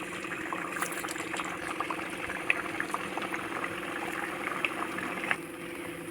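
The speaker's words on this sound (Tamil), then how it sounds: "இப்போ எண்ணெய் நல்லா காஞ்சிருச்சு. பொரிச்செடுக்க வச்சுருந்த ஸ்மைலியை இதில் போட்டுடலாம்." Potato smiley fries bubble in hot oil over a low flame, a steady dense frying fizz with occasional small pops, close and continuous with no talking.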